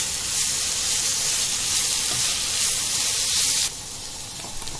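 Ground green masala paste of ginger, garlic, chili and coriander frying in a pan, a steady close hiss and sizzle that drops suddenly quieter near the end, with no talking.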